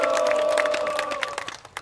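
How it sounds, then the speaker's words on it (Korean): A crowd at an outdoor memorial rally at Sangnoksu Station claps and cheers, steady applause with sustained tones that thins out into scattered claps at the end. "다시 한번 뜨거운 박수 함성 부탁드립니다"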